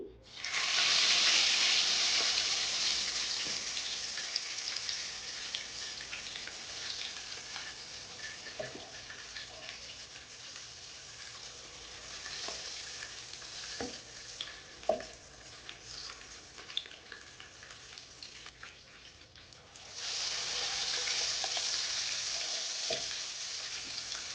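Eggplant sizzling in hot oil in a home kitchen pan, a steady bright frying hiss with scattered pops and light stirring clicks, dipping in the middle and swelling loud again near the end, no talk.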